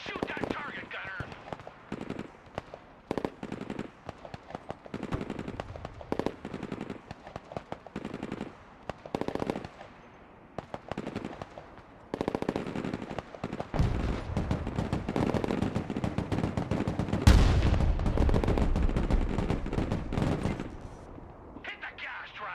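Gunfire in the military video game Broken Arrow: rapid automatic bursts and scattered shots crackle throughout, building into a heavy, continuous barrage with booming impacts, while voices call out over the battle.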